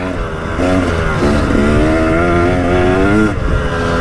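A KTM 300 EXC two-stroke dirt bike with a rebuilt engine and green power valve spring revs hard, its loud, close exhaust note climbing and falling in repeated sweeps with no talking.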